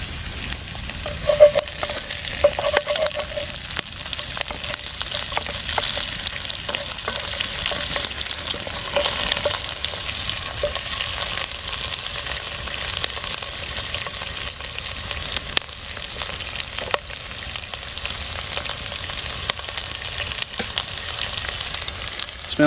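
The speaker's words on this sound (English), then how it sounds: "Dad's now stirring the onions." Onions sizzle steadily in a pan over a campfire at a woodland wild camp while they are stirred. The frying hiss is close and continuous, with occasional scraping stirs and no talk.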